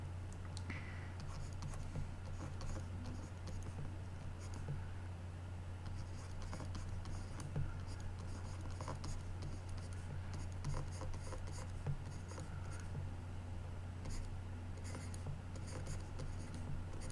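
A polynomial is written on a board in an algebra class, giving faint, scratchy strokes and soft taps that come and go quietly. No one speaks.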